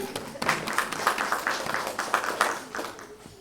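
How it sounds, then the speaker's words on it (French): Audience at a gala evening applauding, a sparse, uneven clapping with distinct individual claps standing out in rhythm, quieter and thinning toward the end. "on peut les applaudir"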